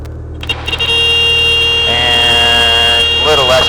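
A small airplane engine roars steadily at full takeoff power during a run down an 1,800 ft gravel runway in Seldovia, Alaska, loud and continuous with a whining tone rising in pitch, under occasional talk.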